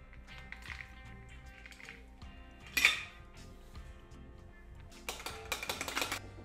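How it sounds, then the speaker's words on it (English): A strawberry jalapeno cocktail is double strained, with clinking metal and glass, a sharp rattle of the strainer and shaker, then a quick run of light tapping and pouring sounds, no voices. "We're gonna double strain this guy out."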